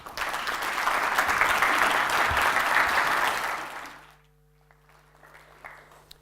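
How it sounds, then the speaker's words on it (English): Audience applause at a sales summit welcoming a speaker to the stage: dense, loud clapping from a crowd that holds steady for about four seconds, then fades out quickly into near silence. "Please welcome to the stage and give him a big round of applause, Mr. John Alison."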